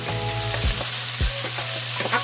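Tomato added to garlic frying in a pan, a steady close sizzle with a couple of stirring scrapes and soft clatters.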